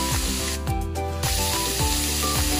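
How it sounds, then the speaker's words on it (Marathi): Food sizzles steadily in a frying pan during home cooking, a continuous close hiss running under background music for the whole stretch. "हे आता फ्राय करून घेऊया 2 मिनिटासाठी।"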